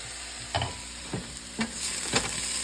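Ground beef frying in a pan, a steady close sizzle broken by a few soft scraping stirs and spatula taps.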